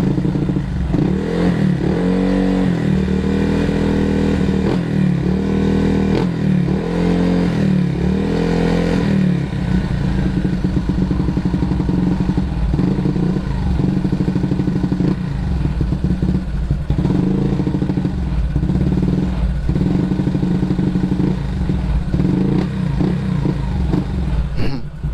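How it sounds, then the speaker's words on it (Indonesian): A Honda PCX 160 scooter with a bored-up engine idles and is revved, sending out a loud, steady, throaty exhaust drone. Repeated rises in pitch over the first several seconds give way to a rough, sustained running note. "knalpot jadi lebih suara kayak basah berbet gitu"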